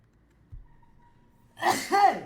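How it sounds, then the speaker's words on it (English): A single indoor sneeze bursts out near the end, loud and close, after a short sharp intake and a quiet pause. "Sorry for my sneeze."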